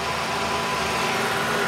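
A 1993 Ford Taurus GL wagon's 3-liter V6 runs at a steady, even hum with constant broadband engine noise and no changes in pitch.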